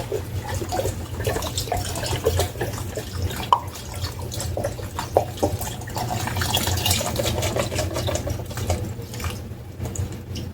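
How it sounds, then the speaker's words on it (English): Broth poured into a pan of flour-thickened shepherd's pie filling gives a continuous splashing, trickling pour over a low steady hum, with scattered drips and small splats and no talking. "Now let's add your broth."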